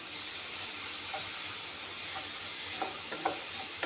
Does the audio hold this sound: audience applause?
no